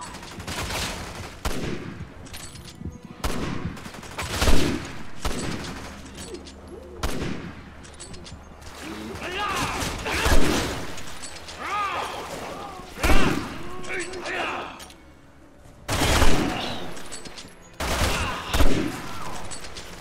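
Bolt-action rifle fire in Resident Evil 6: a dozen loud, sharp single shots at uneven intervals, each ringing out briefly, with game noise and a voice talking in between.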